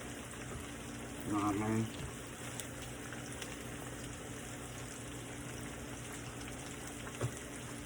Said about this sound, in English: So we go ahead and let that fry up.